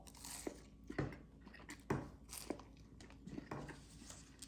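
Someone bites into a BLT wrap in a soft whole wheat tortilla, producing faint, soft crunching and chewing at close range, with a few slightly sharper bites spaced about a second apart.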